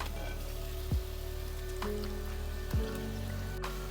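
Mullet fish pieces go into a hot pan of sautéing mango and masala, giving a steady close sizzle. A few soft thuds and bursts of louder frying mark pieces dropping in roughly once a second.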